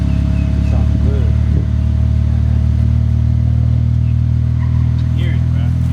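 Infiniti Q50 sedan fitted with a new exhaust, running with a steady deep rumble that holds level throughout, up close, while people talk over it.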